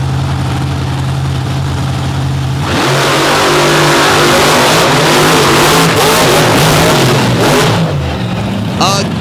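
A low engine hum gives way to a loud, sustained roar as the drag race cars Illuminator and Redneck Rampage run side by side in the 2023 Overdrive Battle championship race at Princeton, Illinois. The roar continues close and heavy to the end.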